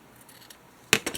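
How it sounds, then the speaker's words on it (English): Fabric scissors snip in a few quick, crisp clicks near the end, close and fairly loud after a quiet stretch, used at a craft table while making a junk journal. "Fabric scissors."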